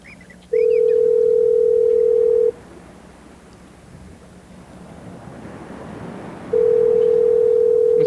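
A phone call to a business rings out as steady, loud tones, one for about two seconds, then a pause filled with windy outdoor noise like surf, then the tone again.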